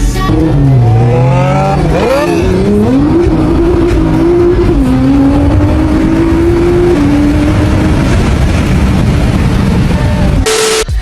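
A loud car engine revs and accelerates hard, its pitch climbing through gear shifts, then cuts off abruptly near the end.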